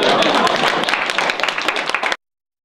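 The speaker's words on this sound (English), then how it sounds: "You're going to applaud, aren't you?" An audience at a Senate debate breaks into applause, a loud, dense burst of many hands clapping that fades slightly before stopping abruptly after about two seconds.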